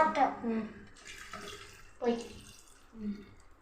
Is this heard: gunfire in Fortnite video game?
no